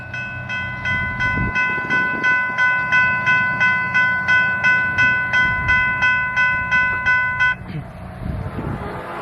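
A level crossing bell dings in a steady, regular rhythm as a train passes beneath it with a low rumble. The bell stops near the end and the low rumble carries on.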